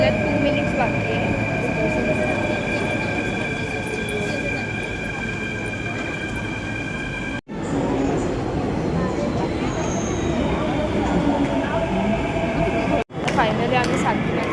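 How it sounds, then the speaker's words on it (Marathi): A metro train rumbles and whines at a Mumbai station, with sustained electric tones and heavy rolling noise close by and voices in the background. "आता आपली मेट्रो यायला 2 मिनिट्स बाकी आहे."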